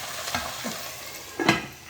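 Soft sizzling of peppers frying in a pan, with a couple of brief stirring or shifting sounds, fairly quiet and close.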